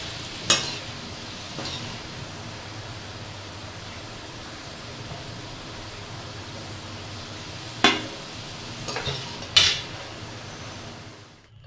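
Potatoes frying in oil in a kadhai, a quiet, steady sizzle throughout, broken by a few sharp clinks of a utensil against the pan near the start and toward the end.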